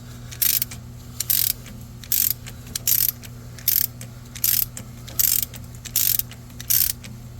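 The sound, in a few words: ratchet loosening a bolt on a Chevy Express van engine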